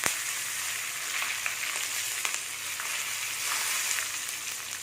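Asafoetida and two sprigs of curry leaves sizzle in hot tempering oil for a brinjal drumstick pachadi, a loud, close, continuous fry with scattered sharp crackles and spits.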